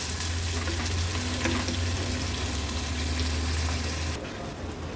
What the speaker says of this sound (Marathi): कांदा आपण मीडियम फ्लेमवर शिजवून घ्यायचा आहे